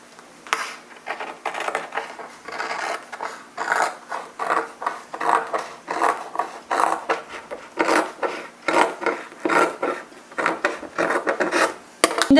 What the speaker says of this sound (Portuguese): Eu vou aparar com uns 2, 3 milímetros de distância da costura.